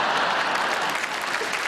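A comedy club audience in Belfast breaks into dense, sustained applause, loud and steady with no voices over it.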